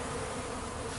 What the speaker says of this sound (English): The bees that we're seeing at the feeders are coming from the East Colony